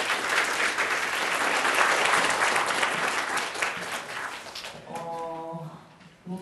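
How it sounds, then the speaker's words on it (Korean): A lecture audience bursts into loud, sustained applause to welcome a guest lecturer at a cyber foreign-language university special lecture, the clapping dense and steady before fading out at the end. "큰 박수로 맞이해 주시기 바랍니다."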